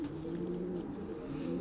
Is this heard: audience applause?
no